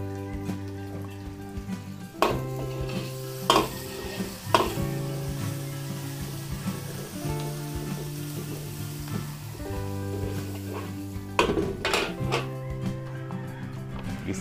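Onions and garlic sizzle in a hot pan for a Filipino party dish, a steady close frying hiss with occasional clinks of a utensil and background music running throughout.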